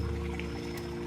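Rainwater pouring and splashing over the edge of an undersized roof gutter on a rural Japanese house, a steady heavy gush with a constant low hum beneath it and no talking.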